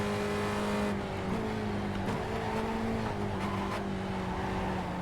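Race car engine in the iRacing sim at Lime Rock drones steadily at high revs, its pitch easing and shifting as the car lifts and gears change, with no talk over it.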